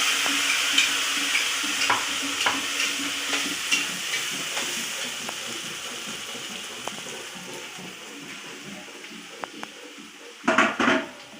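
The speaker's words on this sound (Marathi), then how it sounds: "वाटल्याला मसाला परतून घेते." Ground masala paste frying and being stirred in a pan for dried-fish sukat khalgut, a steady close sizzle with the scrape of a spoon throughout and a louder burst of clatter near the end.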